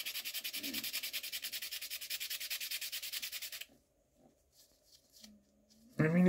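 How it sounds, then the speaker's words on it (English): Black sandpaper rubbed over a sandstone sample in a steady, rapid back-and-forth rasp, close and fairly loud for a few seconds before stopping, followed by quiet handling noises and a brief tonal sound. "it is sanding. I have like a black sandpaper, which is kind of coloring the stone"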